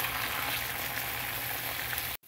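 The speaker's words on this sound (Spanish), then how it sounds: "Voy a poner la espinaca en aceite." Spinach frying in oil in a skillet, a steady soft sizzle and crackle throughout, fairly quiet, with no talking.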